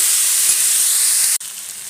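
A steady, bright sizzle of onions frying in a hot pan, with a sudden shift in the hiss near the end as chopped tomatoes are added.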